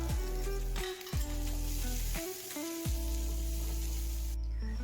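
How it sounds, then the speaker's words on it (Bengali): Chopped onions fry with nigella seeds in mustard oil, giving a continuous loud sizzle under a low, steady humming tone. "কালো জিরেটা ফুটে উঠলেই কেটে রাখা পেঁয়াজগুলো দিয়ে ভেজে নেব।"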